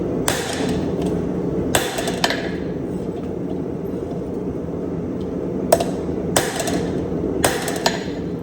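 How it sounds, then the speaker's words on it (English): Blacksmith's hammer blows land on forged tong reins, sharp ringing metallic strikes in small clusters (one, two or three at a time) with pauses between, heard close over a steady low forge roar. "Be consistent with those hammer blows and the work will do itself"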